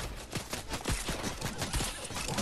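Rapid bursts of SCAR rifle fire in a team rumble video game match, a dense string of repeated gunshots packed close together, loud and continuous throughout with no talking.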